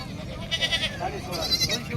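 A goat, a nanny with two kids, bleats at a rural goat market in Kalamnuri, Hingoli, giving several wavering, nasal cries close by while people talk in the background.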